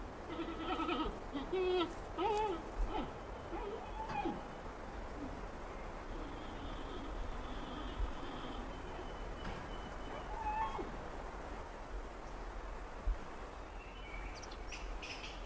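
Faint, distant bleating calls with high wavering chirps from wild giant pandas, repeated a few times over a soft outdoor background hiss.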